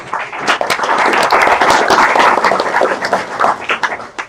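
An audience applauding in a room after a hackathon kickoff talk, a dense burst of many hands clapping at close range that holds steady for a few seconds, then thins out.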